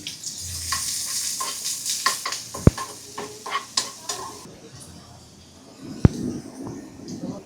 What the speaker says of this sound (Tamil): இதை வந்து நல்லா வதக்கிக்கலாம்.